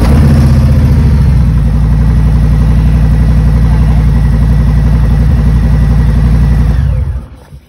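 A Harley-Davidson Fat Bob 114 motorcycle engine runs loud and close in a steady, throbbing idle, then cuts off abruptly at the end.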